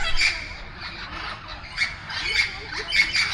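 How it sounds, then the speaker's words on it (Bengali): An Amazon parrot at the new Kolkata zoo lets out a series of harsh, loud squawks in irregular bursts, fairly close, over quiet outdoor background. "পাখিটা কিন্তু খুব জোরে, অ্যামাজন প্যারট, আওয়াজ করেই চলেছে।"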